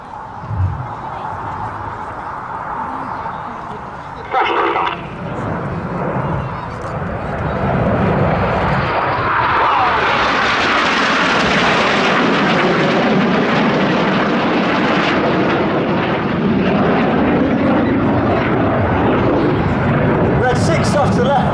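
RAF Red Arrows display jets dive low over an airfield at an air show, a rising roar that swells into a loud, sustained rushing jet noise, with a public-address commentary voice heard early on.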